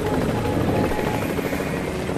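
A helicopter in a children's transport game whirs with a dense, steady rotor thrum and engine roar, loud and unbroken across the short stretch, with no voices over it.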